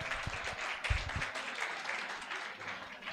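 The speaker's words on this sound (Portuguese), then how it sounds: "vamos aplaudi-lo" An audience gives steady, moderately distant applause as a speaker is welcomed onto the stage, a few louder claps standing out near the start.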